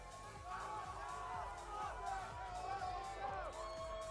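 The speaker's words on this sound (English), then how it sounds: "the MIBR fans in the crowd are going crazy right now" Esports crowd at a VCT Americas Valorant match between MIBR and G2, a steady roar of cheering and whooping from a large audience, heard under continuous commentary.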